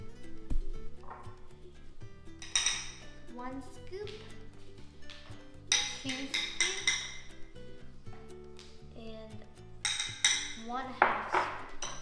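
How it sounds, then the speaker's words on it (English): Utensils clink and scrape against a bowl while gochujang sauce is mixed for Korean braised pork ribs, with sharp metallic chinks recurring in bursts over steady low background music. "So for the sauce, I like to mix gochujang."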